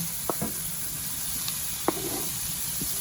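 Kielbasa slices browning with butter and onion in a hot pan give off a soft, steady sizzle, with a few sharp clicks and pops over a constant hiss.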